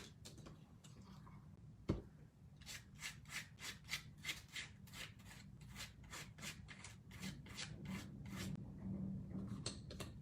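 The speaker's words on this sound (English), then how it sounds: "using my spatula knife and my favorite paper texture paste, I will add it" A spatula knife spreads paper texture paste across paper in rapid, rhythmic scraping strokes, up close and fairly quiet, with a single sharp tap early on.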